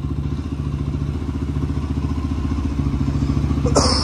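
A rebuilt Honda 400EX ATV engine with a 400cc big bore kit idles steadily up close, a fast even thumping putter with light mechanical clatter, then a brief hiss near the end.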